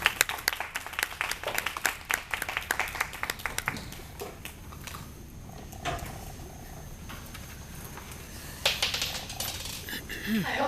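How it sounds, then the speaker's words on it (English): An audience at a community mental health event applauds as a speaker walks to the microphone, with a dense patter of clapping that starts strong, thins out through the middle, then swells briefly again before fading. "If you will give her a round of applause as she comes to the microphone."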